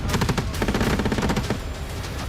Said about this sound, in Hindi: ताबड़तोड़ अंदाज में गोलीबारी की जा रही है